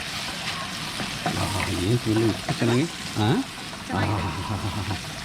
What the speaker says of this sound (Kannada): ಇವಾಗ ಇದಕ್ಕೆ ಕ್ಯಾಶ್ಯೂ ನಟ್ ಗೋಡಂಬಿ ಹಾಕ್ತಾಯಿದ್ದೀನಿ